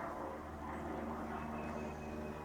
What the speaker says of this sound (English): There's been nothing but little planes flying over me.